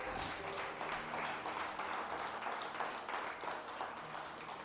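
A church congregation claps along during a Spanish-language sermon, a dense, steady wash of many hands that holds evenly for several seconds with soft music or voices underneath.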